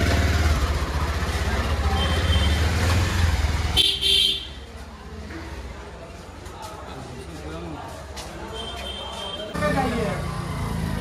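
Busy street traffic close by in a narrow lane in Varanasi: a rumbling engine, a short high car horn toot, and steady road noise, with people talking over it.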